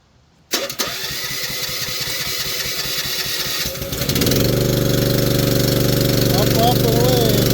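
An engine cranks with a rapid rhythmic chugging for several seconds, then catches and settles into a steady, loud, even running drone, with a voice speaking over it.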